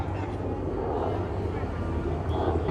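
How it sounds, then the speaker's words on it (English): A low-flying helicopter drones loudly overhead at Six Flags Magic Mountain with a steady low rumble that stays constant throughout. "that helicopter's super low."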